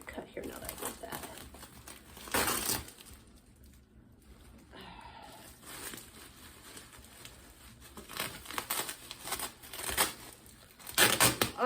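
Orchid shipping box packaging being opened and cut during an unboxing, with bursts of crinkling and rustling paper and plastic, close and fairly quiet, with a brief pause in the middle.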